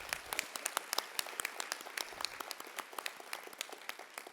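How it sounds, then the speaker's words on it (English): Faint round of applause from a conference audience for Texas AIM maternal healthcare safety teams, sparse and uneven with distinct individual claps, fairly distant and quiet, thinning out toward the end. "please join me in a round of applause for the Texas AIM teams across the state"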